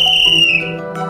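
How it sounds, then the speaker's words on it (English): A high whistle trill rises and falls, one sustained piercing tone that wavers and slides downward before steadying, loud and close, with nothing else over it. "She blows a high trill that rises and falls as it echoes through the clearing."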